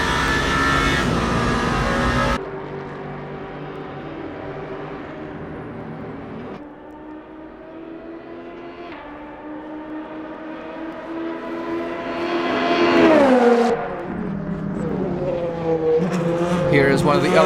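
LMP2 race cars in the Le Mans Ultimate racing game drone with loud, rising and falling engine notes that change pitch as they pass, and a commentator talks over them.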